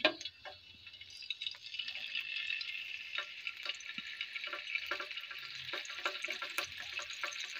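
Chicken shashlik sticks fry in an oiled pan, a steady faint sizzle with scattered small crackles and pops throughout, no voices.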